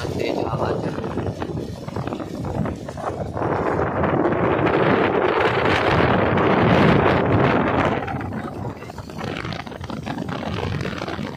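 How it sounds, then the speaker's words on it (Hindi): Strong wind roars against the microphone in broad, rushing gusts that swell louder in the middle, with faint rustling underneath, during cold, heavy rain. "तेज हवा चल रही है।"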